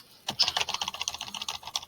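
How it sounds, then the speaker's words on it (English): Rapid, steady key tapping while numbers are entered into a regression calculator, a close and fairly loud run of dense clicks that begins abruptly and continues without pause or voices. "Just type these numbers in."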